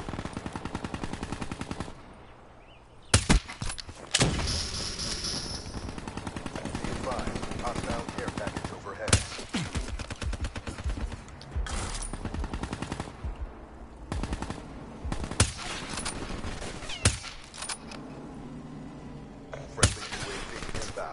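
Black Ops 3 hardcore team deathmatch gunfire: sharp single shots and short automatic bursts scattered irregularly over a busy, noisy match background, some loud and close.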